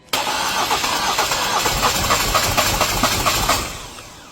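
A Ford Everest engine cranks steadily without catching, a loud, continuous whirring churn with faint rhythmic pulses that fades out at the end without firing up.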